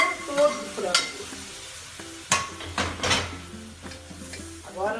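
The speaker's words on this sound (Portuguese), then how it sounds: "Isso aqui vai de volta. Vai para essa panela, ó." Chicken seasoning broth goes back into a hot pan, sizzling and frying with stirring and clinks of a utensil against the pot, close and irregular, no talk.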